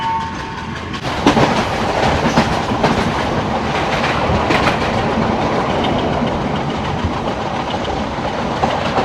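Train clattering along the rails on a coastal line between Hikkaduwa and Colombo, Sri Lanka, with a steady rumbling roar and repeated sharp wheel clacks, loud and close throughout, no talk.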